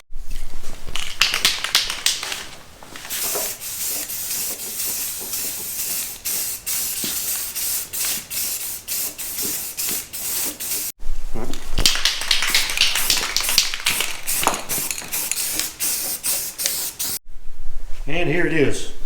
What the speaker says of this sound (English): We're gonna spray it real quick